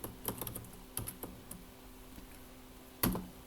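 Faint, scattered keystrokes on a computer keyboard in a quiet room, arriving in short irregular bursts with pauses between them and one sharper clack near the end.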